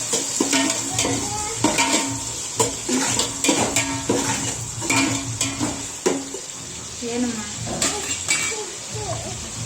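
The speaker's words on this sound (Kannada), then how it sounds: "ಈರುಳ್ಳಿ ಫ್ರೈ ಮಾಡ್ಕೋಬೇಕು" Onions fry in a pan for a chicken biryani while a utensil stirs and scrapes in irregular strokes over a steady sizzle, with a voice talking intermittently over the cooking.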